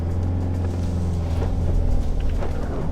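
A new Isuzu D-Max 4x4 climbs a dune sand hill, its engine a loud, steady low rumble under strain, heard from inside the cabin with no voices.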